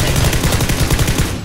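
Rapid automatic gunfire rattles out in PUBG's shooting range, a dense, evenly spaced stream of loud shots that runs almost without a break before cutting off.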